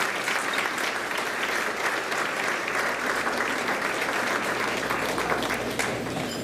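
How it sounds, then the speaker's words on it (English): Audience applause for the Lindsey Wilson Singers at a Founders Day event, a dense sustained roomful of clapping that carries evenly throughout without talk over it. "Let's give them one more round of applause."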